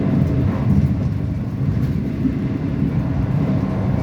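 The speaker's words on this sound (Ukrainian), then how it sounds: "так набрала швидкість електричка, що" Electric commuter train running fast, a steady loud low rumble and roar heard from inside the carriage, continuous throughout with no voices.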